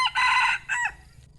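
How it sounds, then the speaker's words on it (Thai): A Thai yellow-hackle rooster gives a single loud, close crow of about a second, rising and then trailing off into quiet. "นี่นะครับเสียงขัน"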